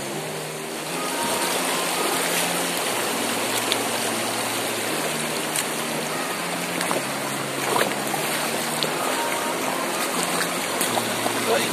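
River water flowing in the Ecuadorian countryside near Pedro Vicente Maldonado, a steady broadband rushing and splashing close by, continuous with small splashes throughout.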